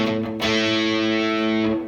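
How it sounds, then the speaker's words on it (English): Distorted electric guitar from a Boss ME-80 multi-effects unit through a 1968 Fender Deluxe Reverb amp, one loud sustained chord struck twice in quick succession, ringing close and alone. "have it set up as a distortion, meaning, listen to a little bit of distortion"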